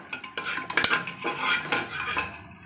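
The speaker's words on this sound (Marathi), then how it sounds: "थोडंसं परतून घ्यायचं" Whole spices sizzle and rattle in hot ghee as they are stirred, with a spoon scraping and clinking against the pan in short bursts.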